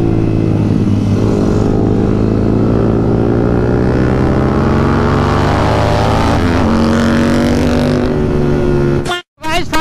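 A loud motorcycle with a full power exhaust system, likely a Bajaj Pulsar at a rally, drones and revs steadily up close for several seconds, then cuts out abruptly near the end.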